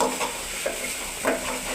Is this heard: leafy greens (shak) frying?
yes